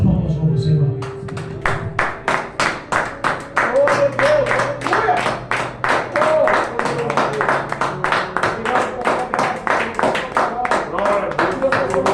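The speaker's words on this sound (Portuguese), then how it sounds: "As palmas ao Senhor." A congregation at a church service claps in praise in a loud, steady, rhythmic beat of many hands that keeps going the whole time. Voices sound under and between the claps.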